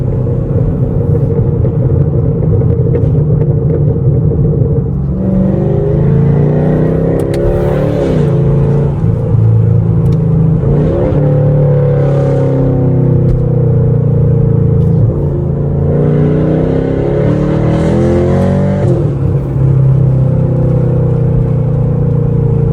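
Straight-piped 2017 Chevrolet Camaro SS V8 driven at night, heard from inside the car: a loud constant droning rumble with repeated rev surges and throttle blips rising and falling.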